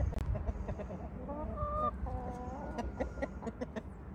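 Chickens cluck and murmur nearby in a steady scatter of short calls, with one drawn-out squawk partway through.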